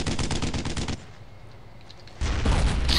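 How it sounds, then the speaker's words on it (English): Rapid bursts of gunfire in the World War II shooter Brothers in Arms: Road to Hill 30, loud and dense at first, dropping to a quieter lull, then returning as a heavy, close volley with a deep boom. "So, I thought he shot at me."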